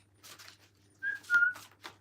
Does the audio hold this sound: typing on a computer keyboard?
no